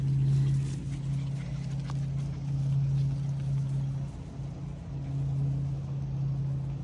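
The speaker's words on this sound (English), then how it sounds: "You hear that engine going of that tractor?" A low, steady tractor engine hum drones nearby, rising and dipping slightly in intensity, with faint background noise and no speech.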